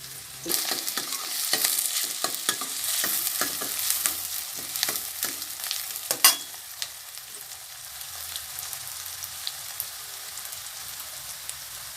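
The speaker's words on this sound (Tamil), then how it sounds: "கருவேப்பிலையும் போட்டு நம்ம இந்த வெங்காயத்தை நல்லா வதங்கட்டுங்க." Onions and curry leaves sauté in a pan with a steady close sizzle and repeated scraping stirs during the first half, then the sizzle carries on quieter on its own.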